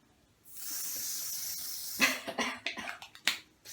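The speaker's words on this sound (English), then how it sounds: "spray it onto my head like that" A makeup product sprays from a can in one steady hiss lasting about a second and a half, close and clear, followed by a few short bursts and rustling handling sounds.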